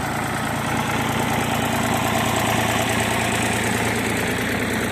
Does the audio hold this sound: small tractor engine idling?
yes